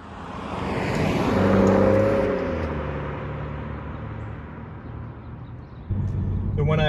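A 2017 BMW 440i M-Sport drives past with a loud engine roar that swells, then fades into a steady whir, with voices heard under the noise.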